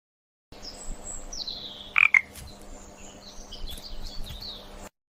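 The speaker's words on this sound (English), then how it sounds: "She's surprised to see it's a frog." A frog croaks and chirps in a short, close run of calls, with one sharp louder burst near the middle and softer trilling around it.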